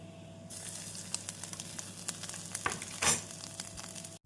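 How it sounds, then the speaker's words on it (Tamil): Grated coconut and chana dal sizzle steadily in a hot pan for coconut rice, with a brief louder scrape of stirring near the end; no one speaks. "நாம் தேங்காய் பூ சேர்த்து நன்றாக கிளற வேண்டும்"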